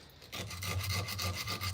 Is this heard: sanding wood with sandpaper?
yes